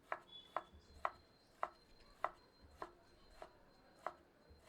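A knife finely chops a small tomato on a board while mutton is prepared, giving about a dozen light, crisp taps at a steady pace, close and quiet with no talk.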